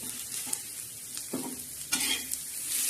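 Coconut, garlic and ginger roasting in a pan for a black masala, with a low steady sizzle and occasional scraping strokes of a spatula stirring.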